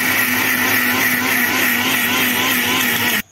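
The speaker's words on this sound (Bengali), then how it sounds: "মিক্সার গ্রাইন্ডারে মিক্সিং হচ্ছে" A mixer grinder runs steadily at high speed, grinding biryani spices in a home kitchen, producing a loud, continuous whirring drone that cuts off abruptly at the end.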